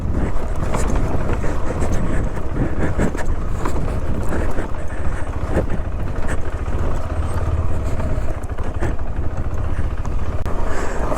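Motorbike ridden on a rough mountain road near Sandakphu, Darjeeling, with a loud fault noise: a continuous close, heavy engine rumble and road roar with wind buffeting the microphone throughout, no speech.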